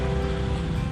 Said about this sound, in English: Got some rain over there.